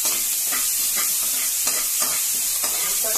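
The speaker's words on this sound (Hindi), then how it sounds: "अभी हमारा जीरा अदरक लहसुन प्याज और हरी मिर्च फ्राई हो रही है दाल के लिए" Cumin, ginger, garlic, onion and green chili fry in oil as a tempering for black masoor dal, a steady close sizzle broken by regular scraping stirs of a spoon, with no talking.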